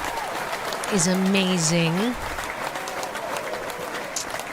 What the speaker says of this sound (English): I think we need an applause just for that.